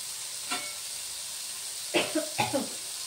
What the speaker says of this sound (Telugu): నేను ఇక్కడ కాకరకాయ ఫ్రై చేస్తున్నాను